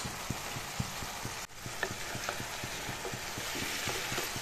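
Cumin and coriander powder for a fish curry are stirred and fried in a cooker pot, with rhythmic scraping strokes over a steady soft sizzle and one sharp knock partway through.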